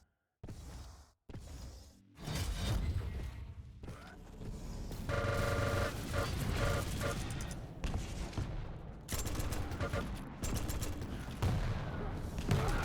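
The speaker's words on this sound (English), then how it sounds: "Shotgun into the face." Rapid shotgun blasts and rocket fire crackle in a fast-paced first-person arena shooter match, with dense, loud bursts of gunfire and explosions nearly continuous throughout.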